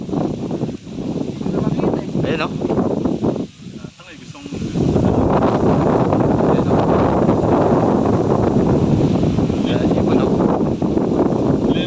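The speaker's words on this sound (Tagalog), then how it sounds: "Lakas ng hangin." Strong wind roars over the microphone at sea during a pigeon toss, a continuous buffeting rush with gusts, while people speak briefly in Filipino early on.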